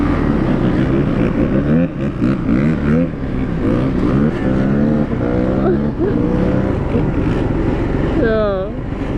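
Quad ATVs spin donuts on a dirt compound, engines revving hard in rising and falling sweeps, loud and close, one machine after another, with a sharp rev at the end.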